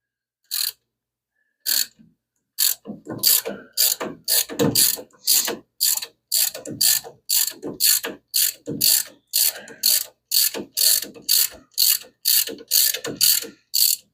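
A ratchet wrench with an 18 mm socket works on a 1934 Plymouth coupe, giving crisp, close clicking bursts in a steady repeated rhythm after a few isolated clicks.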